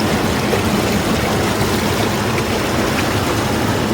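A river near a temple at Nirul, Ratnagiri, rushes past in a loud, steady, close wash of flowing water with no break.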